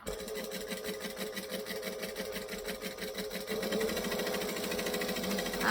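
A sewing machine top stitches along thin vinyl on a bag, running in a steady fast rhythmic whir for the whole stretch, close and moderately loud, getting slightly louder and denser toward the end.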